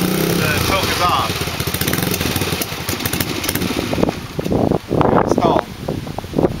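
A 125 dirt bike engine is kicked over and brought to life, with rough mechanical churning, then sharper bursts and uneven revving later on, loud and close while a voice talks over the start.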